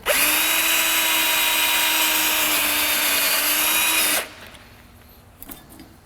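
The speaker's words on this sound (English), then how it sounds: "So we drill." Power drill running at a steady high whine while drilling out a rivet on a Fox Body car during a K-member install, sustained for about four seconds before cutting off, followed by faint knocks.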